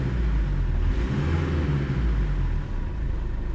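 A 1993 Mitsubishi Delica Star Wagon 4x4 turbo diesel engine gives a low, steady rumble with a mild rev swell, heard close and continuous with no talk.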